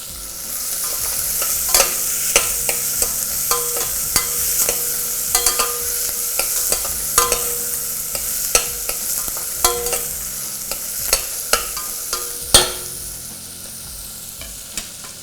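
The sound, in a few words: onion frying and stirring in pan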